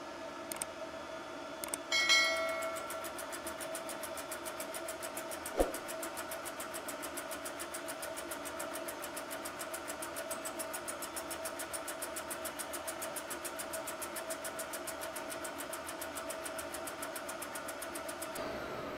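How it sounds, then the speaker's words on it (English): A laser engraver etches a glass mug, giving a steady low machine hum with faint rapid ticking that runs evenly throughout, apart from a few brief clicks near the start. "I'm going to send it over to the machine, and let's go ahead and run it and see how it turns out"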